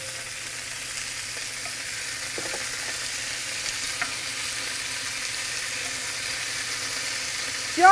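Tomatoes sizzling in a pan for a tomato gratin, a steady even hiss of frying with a few faint utensil taps and a louder clatter right at the end, no talking.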